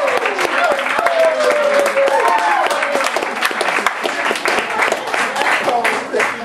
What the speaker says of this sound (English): stand up and give yourself a round of applause.